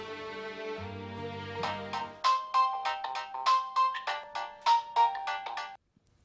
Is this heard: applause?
no